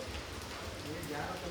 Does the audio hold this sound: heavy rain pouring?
yes